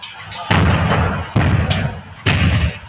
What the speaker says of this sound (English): The front door of a barber shop is smashed in before a man pours fuel inside